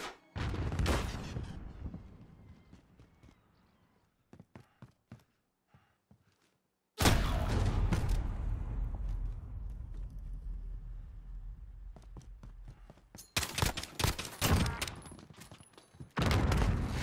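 Close, sharp gunfire from a Modern Warfare 2v2 gunfight match comes in bursts of single shots and rapid volleys. Quiet gaps separate them, and two loud sustained stretches stand out.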